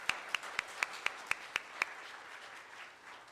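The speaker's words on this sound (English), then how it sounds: "Let's give them a round of applause." Eight sharp, evenly spaced claps ring out in a quiet church congregation, followed by a soft hush of room noise; the clapping is sparse and fairly faint.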